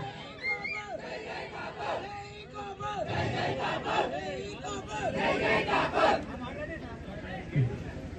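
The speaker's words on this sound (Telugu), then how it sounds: "ఈ అరుపులు కేకలు భవిష్యత్తులో కూడా ఐకమత్యంగా చూపించినది అది." Fans of Ranga at a gathering in Thadiparthi, Kakinada district, shout and cheer together as a dense, continuous crowd roar with overlapping voices and rising whoops throughout.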